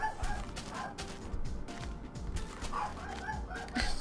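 An angry wolf in the Minecraft video game barks and growls in short, repeated bursts over a busy, noisy game soundscape, moderately loud throughout.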